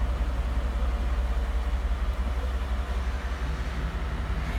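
A Ford F-150 engine idling about a minute after being started, a steady, close low rumble that holds evenly throughout without rising or falling.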